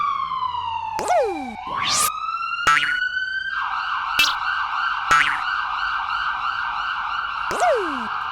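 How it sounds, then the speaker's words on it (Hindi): Loud, close police siren wails and yelps on a street, switching between rising sweeps and rapid warbling tones with sharp clicks between patterns. "रास्ते के दूसरी तरफ बैंक के सामने एक आदमी सायरन की आवाज बजा रहा है।"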